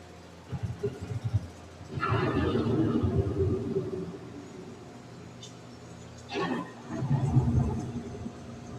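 A low storm rumble effect plays on Epcot's Living With The Land boat ride, two swells of deep rolling thunder-like noise rising and fading under the ride's steady background hum.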